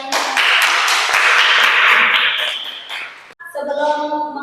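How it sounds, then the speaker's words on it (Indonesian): Students clap together in a classroom, a brisk burst of applause lasting a few seconds before it cuts off and a melody begins. "Beri tepuk tangan untuk kalian."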